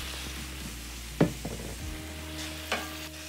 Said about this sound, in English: we're gonna deglaze with a little bit of white wine to sort of start creating a nice little sauce for the salmon